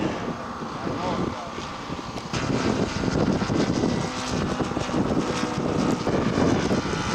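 A scale model SPAD 13 aircraft makes a flyby at an outdoor scale aircraft show, its engine droning loudly and steadily with wind buffeting, while voices talk.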